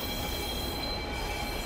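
A train rumbles in the video game Condemned: Criminal Origins, a continuous dense rolling noise with faint wheel squeal held at a steady loud level throughout.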